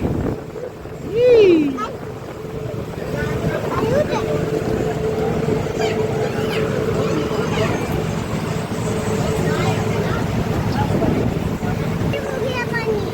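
Dabhol–Dhopave ferry boat cruising across the sea, a continuous low engine rumble mixed with wind buffeting, people chattering over it and a brief whoop near the start.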